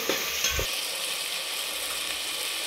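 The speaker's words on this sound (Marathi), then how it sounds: "2 मिनिट फक्त परतून घेऊ." Spice paste for a village-style mutton curry sautés in oil, a bright continuous sizzle with a couple of quick spatula scrapes at the start, close and fairly even throughout.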